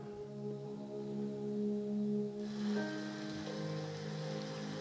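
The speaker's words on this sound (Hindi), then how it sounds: "बाहर बारिश शुरू हो जाती है" Steady rain hisses in the background beneath sustained low tonal music, with the patter growing brighter and denser partway through.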